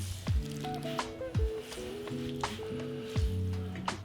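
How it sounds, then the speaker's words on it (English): Grated potatoes wrung out in a kitchen towel over a bowl, giving repeated wet squishing and dripping sounds in a few separate squeezes, close up and fairly quiet, with no talking. "we're gonna squeeze all of the water out of the potatoes"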